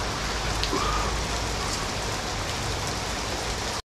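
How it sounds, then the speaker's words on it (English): Monsoon rain falls at a Thai tilapia fishing resort: a steady, dense, loud downpour hissing on surfaces throughout, with no one speaking. "Fishing in the rain, hi ho Mario, we're fishing in the rain."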